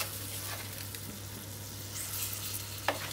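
Onion, roasted peppers, garlic and tomatoes are stirred into flour toasted in a pan, giving a soft steady sizzle with scraping stirs and a sharp clink near the end. No one speaks.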